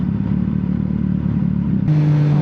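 Triumph Daytona 660 sport motorcycle on a mountain road, its engine droning steadily up close with a low rumbling hum, then shifting to a higher, smoother held pitch near the end.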